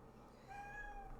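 A cat meows once, a short faint meow indoors heard over low background noise.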